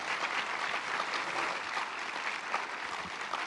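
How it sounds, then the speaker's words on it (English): Audience applause for a panel at a religious liberty celebration event in Culpeper, a dense, steady clapping from a crowd sustained evenly throughout with no voices. "Let's give a big round of applause for our panel."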